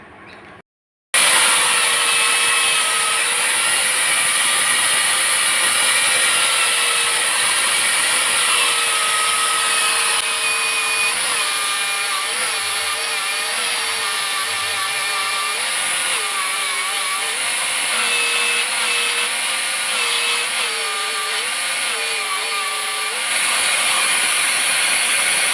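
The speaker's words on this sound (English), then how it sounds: "Of course, we're doing it with a belt sander" A belt sander shapes the outer profile of wooden boomerangs, a loud continuous close-up roar and whine that shifts slightly in pitch as the wood is pressed against the belt, running almost the whole time.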